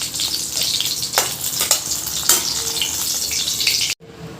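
Mint leaves frying in hot oil in a pan for bottle gourd chutney, a loud, close, vigorous sizzle with crackling bursts and stirring scrapes, cutting off abruptly near the end.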